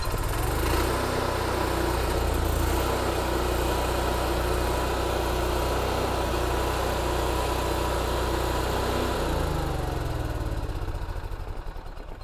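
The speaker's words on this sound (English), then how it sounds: "Once you start up that generator, it'll take 10 or 15 seconds before the automatic transfer switch kicks in" A 2018 Axis 27.7 Class A RV generator runs steadily just after starting, a loud, even engine drone with constant hum that continues alone throughout and eases slightly at the very end.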